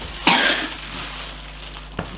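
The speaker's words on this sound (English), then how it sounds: "Cough, cough, cough." A person coughs sharply once up close, followed by a quieter second cough after a short pause, with no speech.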